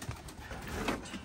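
Soft cooing and faint rustling from racing pigeons nearby, brief and low, with no talking.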